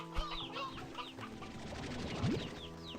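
Game chickens in Slime Rancher 2 cluck in short bursts over a busy bed of game music and ambience, with a few chirpy calls scattered through.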